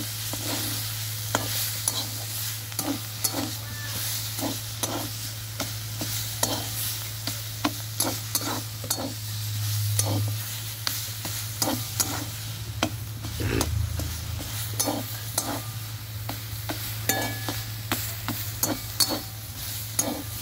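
Drumstick leaves frying in oil with burnt garlic, a steady sizzle under a low hum, punctuated by frequent rhythmic stirring clacks from a spatula.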